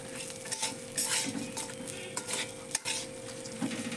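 A spoon scrapes and clinks against a pan as pulao rice fries with sugar, steady stirring strokes over a faint continuous sizzle and a low hum, close and without talk.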